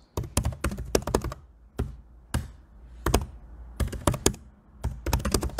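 Fingers type on a computer keyboard in quick bursts of crisp, close key taps separated by short pauses, with no talking over the clicks.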